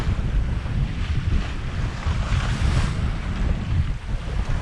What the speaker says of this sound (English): One awesome thing about having the sails up and no engine